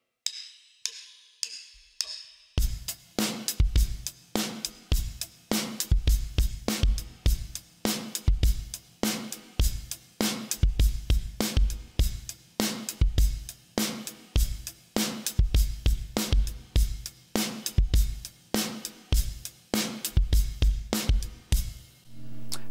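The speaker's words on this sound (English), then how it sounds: "Now the pre-chorus, it is exactly the same, but we're now playing eighth notes on the hi-hat." A rock drum groove on a kit, with steady eighth notes on the hi-hat over kick and snare, follows a few sparse clicks at the start. It plays loud and close, with no voices.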